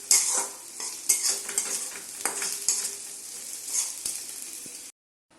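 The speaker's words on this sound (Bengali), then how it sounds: "পেঁয়াজগুলো একটু ভেজে নিচ্ছি।" Onions fry in a pan for a fish curry, crackling and sizzling close by while a spatula scrapes and stirs in uneven strokes, before the sound cuts off abruptly into silence.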